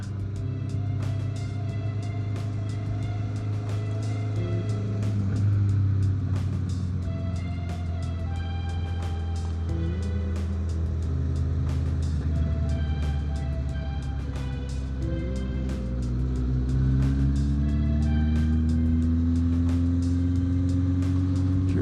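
A motorcycle exhaust drones at a steady low pitch while cruising at about 25 mph. The tone stays constant for a long stretch, then rises near the end as the engine revs climb, with road rumble underneath.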